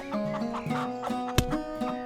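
Chickens at a poultry shop cluck in short repeated bursts with a steady hum behind them and a sharp thump partway through; no one speaks.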